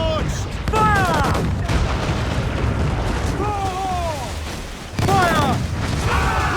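Warship cannons boom in a naval battle in Assassin's Creed 4: Black Flag, with heavy blasts near the start and again around the five-second mark, while crew voices shout over the continuous roar of battle.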